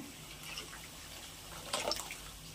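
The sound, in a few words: pouring tamarind water into boiling curry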